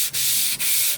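An oil stone being rubbed back and forth on sandpaper to flatten it, a steady loud abrasive scraping in two continuous strokes separated by brief pauses.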